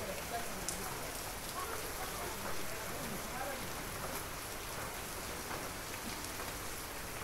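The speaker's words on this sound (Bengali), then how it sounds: "এই দেখেন বৃষ্টি, এখনো বৃষ্টি হইতেছে।" Steady rain falls on surfaces nearby, a constant dense patter with occasional sharper drops, no letup throughout.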